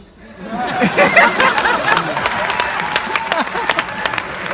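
A crowd at a Hindi comedy and poetry performance breaks into loud, sustained clapping, with chuckles and murmuring chatter mixed into the applause.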